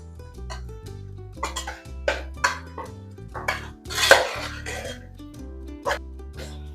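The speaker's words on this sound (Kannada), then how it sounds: "ಇವಾಗ ಕ್ಲೀನಾಗಿ ಫ್ರೈ ಆಗ್ತಾ ಇದೆ." Chopped ivy gourd frying with coriander powder in a pan, with repeated metallic clinks and scrapes of a spoon stirring against the pan over a soft sizzle.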